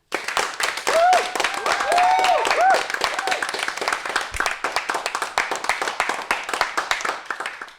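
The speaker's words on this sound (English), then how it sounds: "That was a very long clap as well" An audience claps and cheers for a costume contest entry, dense sustained applause with whoops near the start, fairly close and lasting several seconds.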